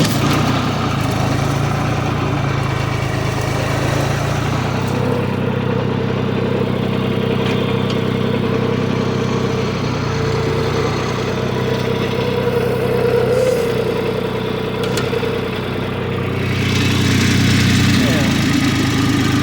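A loader tractor's engine idles in neutral in the woods, a loud, steady mid-pitched rumble with a slight rise near the end, while people talk over it.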